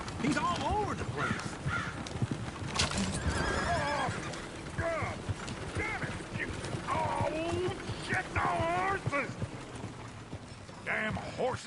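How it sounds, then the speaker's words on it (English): Horses in the video game Red Dead Redemption 2 whinny and neigh repeatedly over clopping hooves and busy background noise, several calls overlapping in a lively, cluttered scene. "Damn horses."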